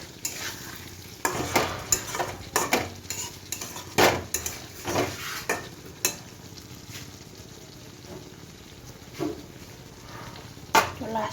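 Potatoes for vegetarian aloo dum are stirred and sautéed in a pan: a spoon scrapes and clacks in irregular bursts over a low frying sizzle, close and moderately loud, with occasional quiet background voices.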